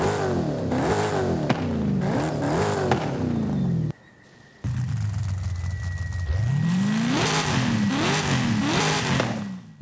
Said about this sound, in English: When you fit the Demon with an exhaust, it sounds much more like what you'd expect from a typical American big block V8